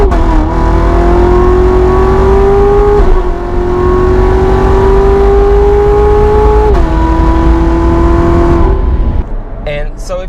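A Chevrolet Corvette C7 Z06 accelerates hard on a race track, played back from a recording: a loud rising engine whine climbs through the gears, with shift breaks and a fade at the end.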